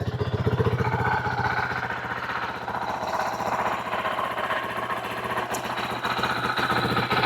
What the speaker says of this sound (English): fire the bike up